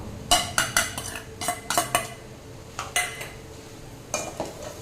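A spoon clinks and scrapes against a pan while grated paneer is stirred into soya chunk podimas, with sharp metallic taps in irregular bursts, close and fairly loud, with no talking.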